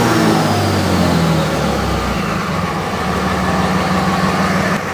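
A 2006 Cummins diesel engine runs and revs after repair of fuel injector and P2146 faults, a loud, steady close-up drone with a brief rise in pitch near the start, no talk.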